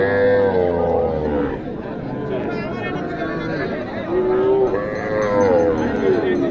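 Cattle and bulls lowing at the traditional Dighirhat cow market in Naogaon, several drawn-out moos rising and falling close by amid steady crowd chatter and people talking.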